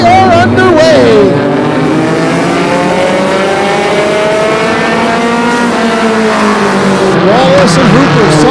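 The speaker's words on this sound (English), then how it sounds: "Mike Hooper in the 77 car is going to find the green flag, and we are underway." Mini stock race cars roar past at Flamboro Speedway as the green flag drops, several engines revving loud and close in rising, overlapping harmonic sweeps that fade and return, with a commentator talking over the racket.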